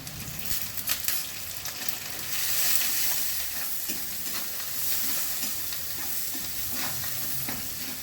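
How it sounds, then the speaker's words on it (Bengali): Onion frying in a pan with salt and turmeric added, a steady broadband sizzle with scraping stirring strokes throughout, close and fairly loud, no talking. "পেঁয়াজটা একটু ভাজা হবে"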